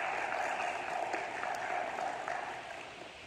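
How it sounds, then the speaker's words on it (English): An audience at a 2020 spelling bee claps in a steady, dense patter, fairly faint and distant, fading slightly toward the end. "Let's give these guys a round of applause."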